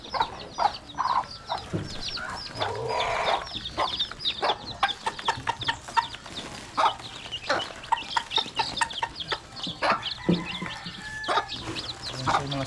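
Chickens and chicks cluck and peep continuously at close range, with layered clucks and high chirps over a steady farmyard background.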